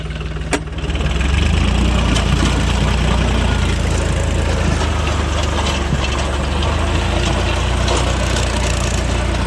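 A tractor engine running hard while pulling a rotavator through a field, a loud steady low drone throughout with a sharp knock near the start; no voices.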